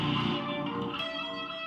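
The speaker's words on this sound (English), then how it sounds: "sound you hear is called phaser." Fender Squier Bullet Stratocaster played through an amp's phaser preset, a sustained ringing chord with a sweeping, swirling shimmer as it slowly decays, heard alone.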